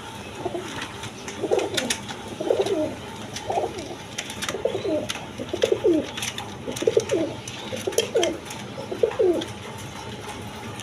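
Pigeons coo steadily in a repeating series of soft, throaty calls, one after another, close by, with faint background hiss and no talking.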